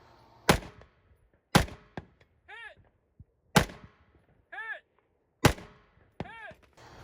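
Rifle shots fired from a trailer at steel targets set at range: four sharp cracks, three of them followed a moment later by a distant, ringing ping of the struck steel.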